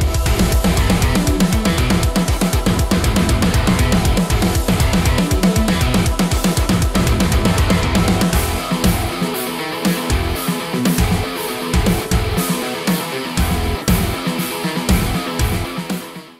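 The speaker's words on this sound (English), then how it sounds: "I have a project where I procedurally generate metal music, and it sounds like this." Procedurally generated metal music plays loud and dense, with driving distorted guitars and pounding drums throughout, thinning into choppier hits near the end.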